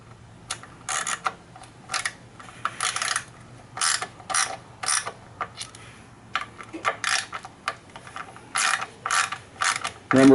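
Ratchet clicking in repeated short bursts while tightening bolts on the skid plate of a Yamaha XT250 motorcycle, close and crisp with pauses between strokes.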